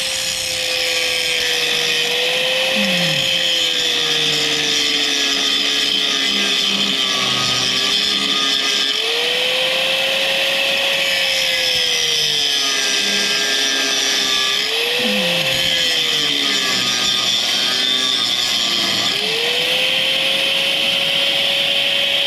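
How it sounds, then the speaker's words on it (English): An angle grinder grinds a ball joint nut flat on a 2007 VW Beetle, loud and close, with a continuous high whine whose pitch dips and recovers as the disc bites the metal, running for about twenty seconds without talk. "So I just need to grind this flat."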